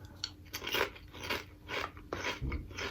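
Purple heirloom potato chips, a thicker-cut style, are bitten and chewed up close in a series of crisp, crackly crunches with short pauses between bites.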